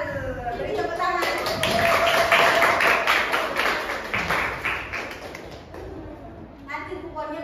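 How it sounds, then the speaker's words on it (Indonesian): Classroom students clapping their hands together, a dense patter of many claps that swells for several seconds and then fades, with children's voices mixed in and a teacher speaking near the end. "Beri tepuk tangan."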